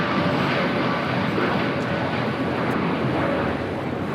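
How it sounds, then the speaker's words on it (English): An American Airlines Boeing 787-8 Dreamliner takes off from LAX, giving a steady, loud broadband jet roar that holds evenly throughout with no voices over it. "This is American Airlines 1526 taking off to Miami, Florida on a 787-8 Dreamliner"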